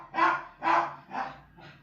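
A dog in the Call of Cthulhu video game gives four barks in a row, each a little softer than the last, clear and fairly close with no talk over them.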